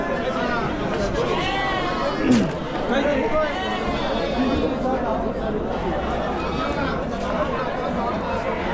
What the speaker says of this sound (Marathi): मेंढ्यांची पण कर्ड आहेत मेंढे आहेत